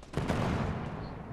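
Rapid gunfire bursts in a multiplayer video game shooter, a dense crackling volley filling the short moment loudly with no talk over it.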